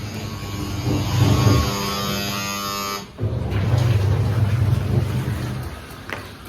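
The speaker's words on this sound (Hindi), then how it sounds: "मैं एक बार मशीन की सुई घुमा दूँ" A household sewing machine runs with an electric drone in two long bursts split by a brief pause, loud and close indoors on a foggy winter day.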